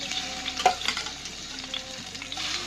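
Prawns, washed and rubbed with turmeric and salt, frying in hot mustard oil in a pan, a steady close sizzle with bursts of spattering and stirring, no talking.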